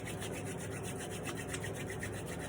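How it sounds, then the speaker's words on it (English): Palms rub briskly together in a steady, continuous friction sound, close and fairly loud, with no talking over it. "rub your hands, rub your palms, and then, like, the palms should become hot"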